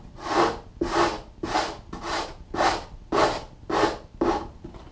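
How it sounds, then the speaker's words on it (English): Rhythmic back-and-forth sanding strokes on the bevel of a bagged foam core wing, about eight even passes, close and dry with a soft rasping texture. "You can get carried away since you're sanding."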